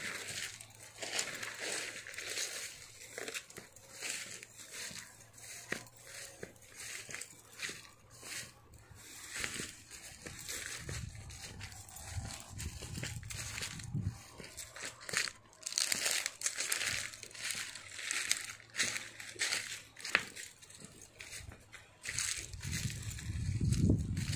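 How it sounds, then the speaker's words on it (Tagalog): Dense crackling patter of heavy rain, steady and close throughout, with occasional louder splashes and low rumbles. "Talagang sagad ang ulan"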